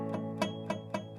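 A strummed guitar chord in open position rings with a few muted open strings, struck four times in a quick rhythm with a choppy, dulled resonance, close and moderately loud.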